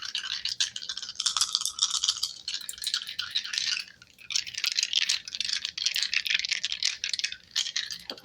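Dice shaken and rolled in a steady stream of bright, close clattering rattles and clicks, loud and continuous, with brief pauses between bursts and no talking.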